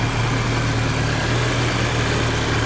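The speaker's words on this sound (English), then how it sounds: "Both fans are spinning." Both radiator cooling fans running on an Audi/VW 2.0T engine in a TT Mk2 or GTI, a loud, steady close whir with a low engine-like hum and no talk.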